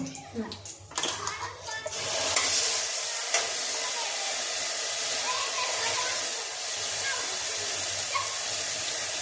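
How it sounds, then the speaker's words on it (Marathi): Ground spice paste hitting hot oil and being sautéed for a bitter gourd dish, a loud sudden hissing sizzle that settles into a steady close frying hiss after a few stirring knocks. "आता मसाला परतून घेते"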